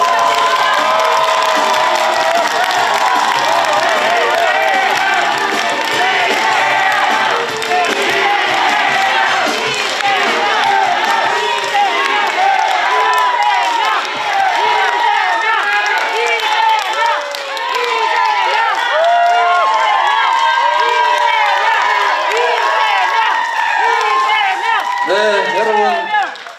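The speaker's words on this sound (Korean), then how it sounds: "여러분, 이재명 당대표를 무대 위로 모시겠습니다. 뜨거운 박수 부탁드립니다." A packed auditorium crowd at a political party rally cheers, claps and shouts as the party leader takes the stage, a loud continuous roar of many voices and applause with chanting mixed through.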